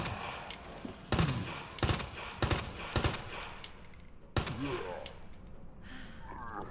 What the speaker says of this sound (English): The SMG is not very good at taking out these zombies.